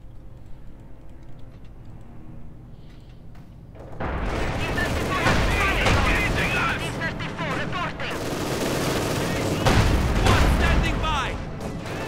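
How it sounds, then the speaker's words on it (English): Battle noise from the World War II strategy game Company of Heroes 2: after a quiet stretch, dense mortar blasts and rattling gunfire erupt and keep up in a loud, continuous barrage. "Lots of mortar fire."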